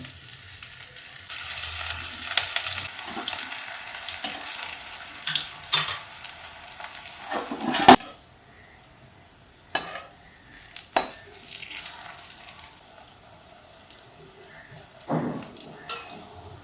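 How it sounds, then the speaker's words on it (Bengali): Methi leaf fritters (bora) frying in oil over a low flame, with a steady close sizzle through the first half that drops to quieter hissing punctuated by occasional sharp clicks and crackles; no one speaks. "এবার আমি বড়াগুলো এতে ভেজে নিচ্ছি ফ্লেমটা একদম লোত করে ভাজতে হবে"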